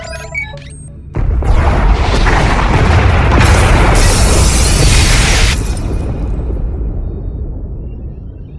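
Pod bays blow apart in Star Wars: The Old Republic, a short tonal beep sequence giving way to a sudden loud booming explosion with bright crackling debris that sustains for several seconds before fading into a low rumble.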